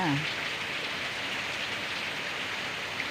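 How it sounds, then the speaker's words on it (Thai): Steady rain pours down, a dense continuous hiss of drops on surfaces with no other sounds standing out. "บรรยากาศฝนตกตกเพลินเพลินกันค่ะ"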